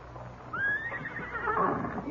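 A horse whinnies loudly in an old radio Western drama, a rising then falling neigh lasting over a second against a quiet background, with faint hoof sounds around it.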